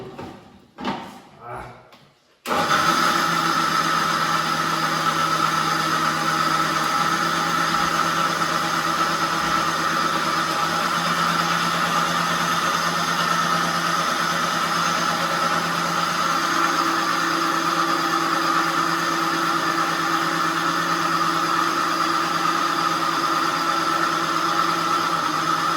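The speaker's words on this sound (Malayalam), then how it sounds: "നമ്മൾ ആ പാലും കൂടി ഇതിലേക്ക് മിക്സ് ചെയ്യണം." After a few brief knocks, a blender mixing milk, cream biscuits and sugar into an Oreo shake roars up and runs loud and steady with a droning motor whine for the rest of the clip.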